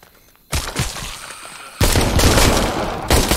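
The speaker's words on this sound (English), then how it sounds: "I'm shooting him in the face, see?" Gunfire in the zombie shooter Arizona Sunshine rings out in three loud, close bursts, each a sharp crack of shots followed by echoing reverberation.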